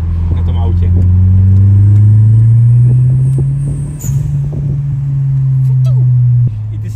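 A 1.8 turbo car engine holds a loud, steady low drone that climbs slightly in pitch, then dips and settles before cutting off near the end, close and dominant throughout.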